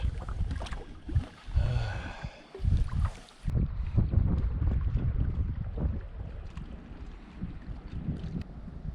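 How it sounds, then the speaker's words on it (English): Canoe paddling on a lake in the boreal wilderness: rhythmic paddle strokes and water swishes close by, mixed with gusty wind buffeting the microphone, no voices. "It feels really good sitting down and paddling again after 4 hours on that portage."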